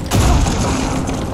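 A grenade bursts in Far Cry 6 with a loud, close boom that hits hard at once and leaves a rumbling, crackling tail fading over the next second.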